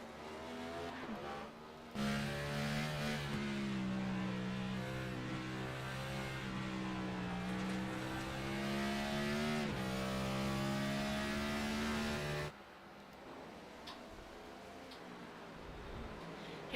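Race cars lapping the Sonoma track in a racing video game, with engines droning and revving loudly throughout and a brief drop to quieter engine noise near the end.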